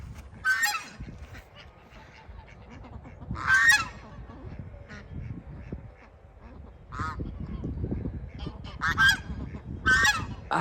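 Geese on a small farm honk in loud, short bursts spaced a few seconds apart, with rustling and low shuffling noises between the calls.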